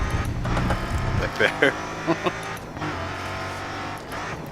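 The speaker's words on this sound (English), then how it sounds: "I can hear my own wheel clicking away when I go over some of the curbing." A force feedback steering wheel rattles and clicks in quick bursts as the car runs over curbs in the Autosport racing game, mixed with engine drone from the game; someone speaks briefly.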